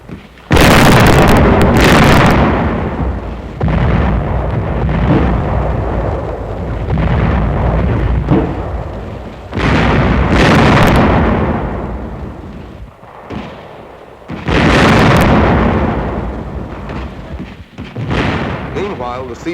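Heavy artillery and mortar explosions from 1944 wartime combat footage, with several loud booming blasts and long rumbling decays rolling one after another, close and powerful throughout.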